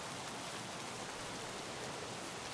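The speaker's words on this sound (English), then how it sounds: "I'm feeling pretty good about the rain." Soft, steady hiss of rain falling in the video game Escape from Tarkov, quiet and continuous with no breaks.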